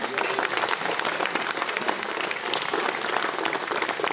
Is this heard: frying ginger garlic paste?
no